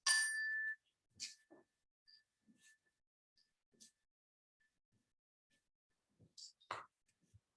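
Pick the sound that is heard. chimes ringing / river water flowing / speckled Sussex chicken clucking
chimes ringing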